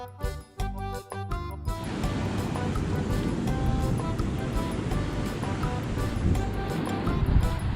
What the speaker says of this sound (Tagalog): Tignan natin ang dagat sa labas.